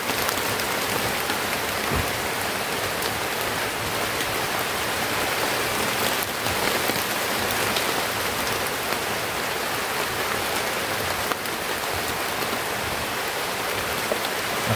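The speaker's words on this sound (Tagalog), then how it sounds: "Nabutan kami ng ulan mga idol." Heavy rain pours down in a dense, unbroken hiss, loud and close, with a steady patter on surfaces and no break in intensity throughout.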